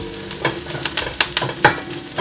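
Onion, green chilli, mustard seeds, fennel and cumin sauté in hot oil with bay leaf, a spoon scraping and stirring in several irregular strokes over a steady frying crackle, close and fairly loud.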